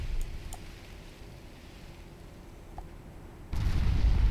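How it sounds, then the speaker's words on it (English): Naval 4-inch guns firing in Ultimate Admiral Dreadnoughts, distant muffled reports over a low rumbling battle ambience, ending in a heavy booming blast that continues to the end. "Poke in some holes with the 4-inch guns."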